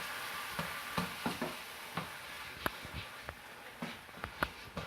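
A dill and sour cream sauce heats in a pan, giving a steady quiet sizzle with scattered light taps and stirring clicks at an uneven rhythm.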